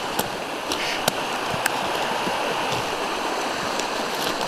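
Flooded stream in spring during maple syrup season: a constant broadband rush of water running strongly nearby, steady throughout, with a few faint clicks and no talking.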